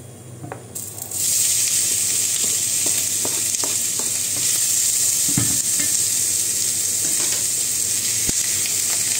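White onion frying in olive oil in a pan, a steady loud sizzle with occasional stirring taps, close and continuous.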